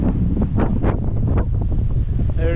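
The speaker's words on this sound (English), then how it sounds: "you come up here and that wind starts cutting through you." Strong wind buffets the microphone on the exposed coastal path at the Giant's Causeway, a steady loud roar with gusting bursts and no break throughout.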